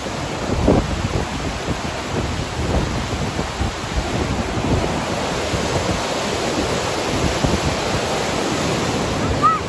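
Powerful, roaring rush of the fast-flowing, high-pressure river at Manikaran Sahib near Kasol, a dense constant torrent close by with no pauses.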